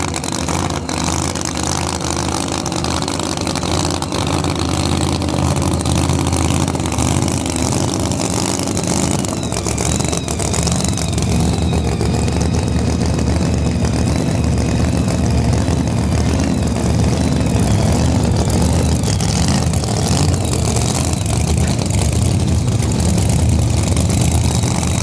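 Supercharged drag race car engines at a no prep race, a dense continuous roar of idling and revving heavy motors that swells louder midway and holds for the whole stretch without pause.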